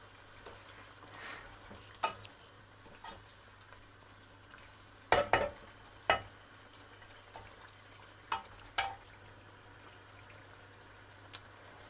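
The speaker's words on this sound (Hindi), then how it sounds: "आलू भून रही हूँ" Potatoes frying in a pan for aloo biryani give off a faint, low sizzle, broken by a few sharp stirring clicks and scrapes spread through the quiet stretch.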